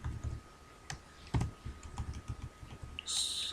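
Close, steady typing on a computer keyboard while entering Python list code, irregular quick keystroke clicks with a few louder taps, and no voice.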